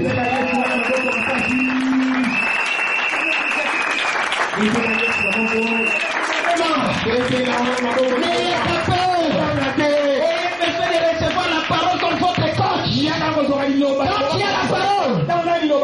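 A church congregation claps and cheers for Jesus, loud, sustained applause blending with a crowd's voices and music that carries through the whole stretch.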